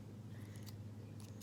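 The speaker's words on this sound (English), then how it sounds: "Grab some scissors and just cut that end." Scissors trimming the end of a strand of hair: two faint, crisp snips about half a second apart over a low, steady background hum.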